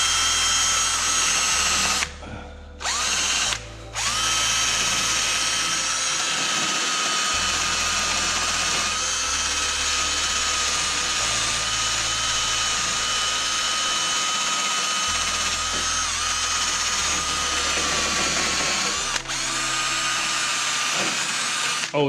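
A Makita power tool runs steadily and loud through an Audi Q5 3.0 TDI sump reseal and AdBlue injector pipe replacement, cutting out briefly twice near the start, with a pulsing low hum underneath.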